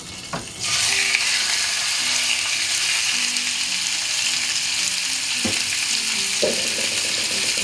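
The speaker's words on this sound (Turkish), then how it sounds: "Tavamızın içindeki yağ ısındıktan sonra etlerimizi koyuyoruz kavurmaya." Meat for çökertme kebabı frying in hot oil in a pan, a loud steady sizzle that swells as the pieces go in, with a few utensil taps and scrapes, close and without talk.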